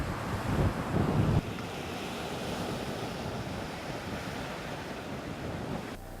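Ocean surf washing onto a beach, a steady broadband rush with wind buffeting the microphone, louder gusts early then an even continuous wash.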